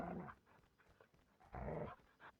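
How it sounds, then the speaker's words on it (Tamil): Dog barking and growling inside a multiplayer ranked video game, heard as a few quiet, uneven bursts of canine noise with gaps between them and no talk. "பின்னாடி நாய் சவுண்டில் விழுகுது"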